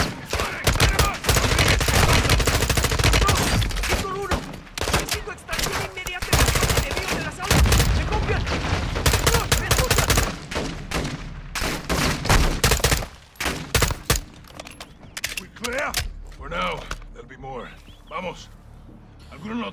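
Heavy, sustained gunfire from the Call of Duty Modern Warfare 2 campaign during a mountain firefight, with dense bursts and loud blasts for most of the clip, fading toward the end while voices speak over it.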